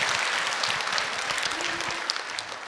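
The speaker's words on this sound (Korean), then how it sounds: "박수로 축복합니다." A church congregation at a Sunday service claps together in blessing, a dense, steady wash of many hands close by that runs the whole moment and eases slightly toward the end.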